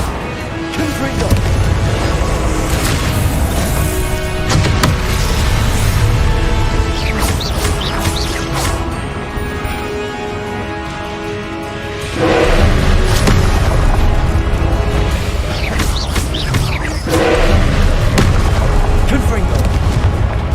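Confringo fire-blast spell explosions in the Hogwarts Legacy video game, heavy booming blasts recurring amid a dense, loud game soundscape of music and effects, with talking over parts of it.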